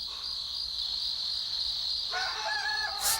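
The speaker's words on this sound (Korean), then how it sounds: "설마 닭 울음소리였을까요?" A rooster crows near a chicken coop in a quiet outdoor setting, a single moderately loud call arriving partway through over a steady background of insect chirping.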